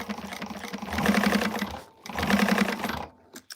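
Sewing machine stitching a seam on a garment in two quick bursts, a rapid buzzing whir each about a second long with a short pause between, close and fairly loud.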